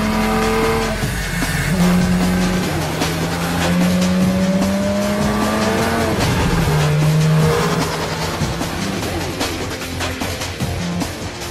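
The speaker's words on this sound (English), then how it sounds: "another roll test takes the car up to speeds of 75 miles per hour." A Porsche 911 on a factory roll test at up to 75 mph gives a loud, sustained engine drone with shifting tones and tire noise, close and continuous throughout.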